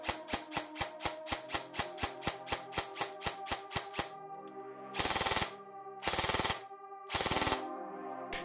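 Rapid regular clicks of a Specna Arms SA-X02 Edge 2.0 airsoft gun firing in binary mode, then three separate bursts of louder, noisier shots with pauses between.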